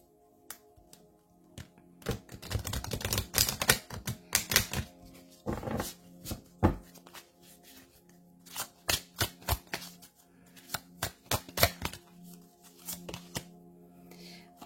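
Tarot cards shuffled by hand, bursts of rapid papery riffling and flicking with short pauses between rounds, close and fairly crisp, with a faint voice in the background.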